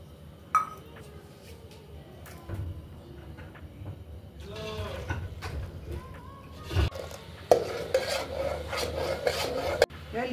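Powdered milk being stirred into warm water in a pan, giving a soft scraping, rubbing rasp with occasional light clinks, growing busier and louder toward the end.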